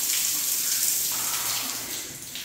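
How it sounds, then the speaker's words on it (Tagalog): Water running from a tap in a campground common shower while feet are washed, a steady close hiss with faint splashing and no talk. "Hugas tayo ng paa."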